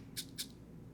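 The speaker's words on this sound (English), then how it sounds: "So the maraca here sounds like this." Two quick maraca shakes in a music mix breakdown, bright crisp rattles spaced evenly apart over a low, quiet background, with no talk.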